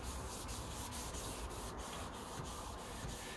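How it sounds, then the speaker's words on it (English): Steady rhythmic hand sanding of a car's clear coat, a dry rasping scrub repeating in even strokes close by, with no voices. "I don't want to sand the paint off the drip rail"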